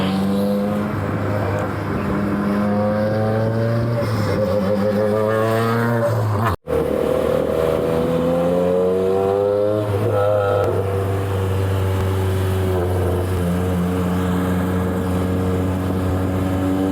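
A Honda Civic EG6 track car's engine holds a loud, steady nearby rev, its pitch rising and falling in smooth sweeps with a brief cut midway, and no voices over it.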